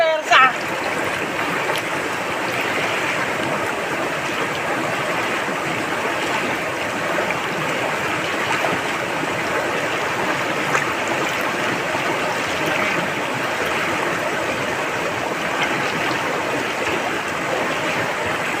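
A river flows steadily and continuously close by, a broad rushing and splashing wash that holds constant throughout.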